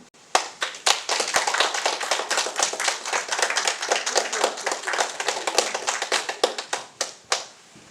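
An audience claps to welcome a guest author at a reading in Bandon, Oregon. The applause is dense and close, swelling quickly, holding steady, then thinning into a few scattered claps before stopping.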